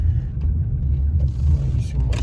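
Steady low engine rumble from inside a car with a knocking engine while driving, continuous and fairly loud, with faint higher rattles and no talking.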